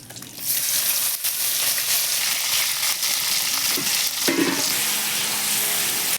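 Onion frying in a pan for a Bengali sea crab dish, giving a loud, steady close-up sizzle with brief stirring scrapes partway through and no talk.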